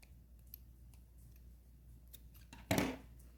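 Scissors snip through yarn once near the end, a short close crisp cut during amigurumi doll crochet work, standing out after a quiet stretch.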